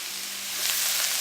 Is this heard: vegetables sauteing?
yes